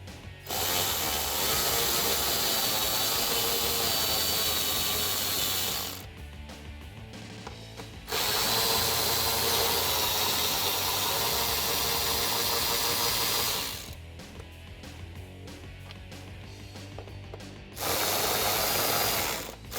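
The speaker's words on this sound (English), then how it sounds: "So what I'm going to do is take a 7mm socket and a little extension just to give myself a little bit of room here" Ratchet wrench with a 7mm socket and short extension backing out trim screws on a Jeep Wrangler JL, rapid clicking in long loud bursts separated by brief pauses, close up with no talking.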